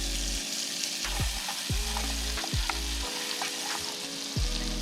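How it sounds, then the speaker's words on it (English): Onions going back into a pan still coated with butter from cooked tuna, a steady close sizzle with a few sharp scraping stirs and clinks, over a low background hum. "So we'll get those onions back on."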